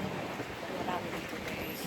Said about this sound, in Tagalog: At medyo malakas ang hangin.